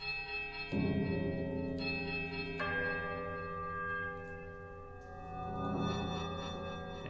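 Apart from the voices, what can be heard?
bells rung in a puzzle in Pillars of Eternity video game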